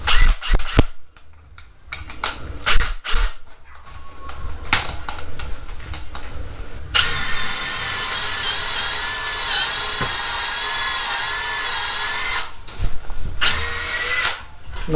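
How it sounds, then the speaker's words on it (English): A Makita 18V LXT sub-compact brushless cordless drill bores into wood: clicks and short bursts of handling first, then a loud, steady high-pitched whine for about five seconds before it stops and rattles briefly. "So this is the Makita drill."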